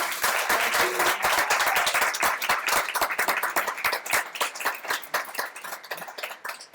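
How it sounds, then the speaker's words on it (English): Audience applause at a live podcast event, many hands clapping loudly in a full, sustained round that thins into scattered individual claps toward the end. "Let's give Hilary another round of applause."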